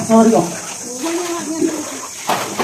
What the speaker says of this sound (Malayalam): ഇതാ വെള്ളവും മണ്ണും ചളിയും ഒക്കെ പാടേറി വരുന്നത്